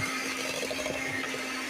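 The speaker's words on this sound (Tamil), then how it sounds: "4வது முட்டையும் சேர்த்து அடித்து கொண்டு இருக்கிறேன்." An electric mixer beats eggs for a date cake, a steady close whir with a constant motor hum running throughout, no voices over it.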